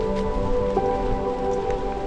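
Steady rain pattering on surfaces in a muddy forest along a monsoon waterfall trek trail, a continuous close wash of drops with no voices.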